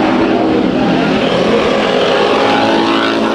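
Race cars in a heat at Bakersfield Speedway produce a loud, continuous engine roar that stays steady and dense throughout, with no voices over it.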